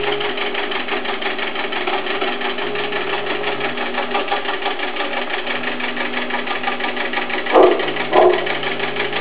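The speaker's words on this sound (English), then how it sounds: "Okay, so now it's just going to quilt away here" A PC Quilter quilting machine stitches a pattern, its rapid, even mechanical chatter humming loud and continuous, with two brief knocks near the end.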